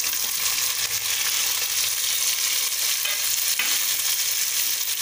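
Vegetables frying and being stirred in a pan for vegetable pulao, a steady loud sizzle with scraping stirs running throughout, no voices.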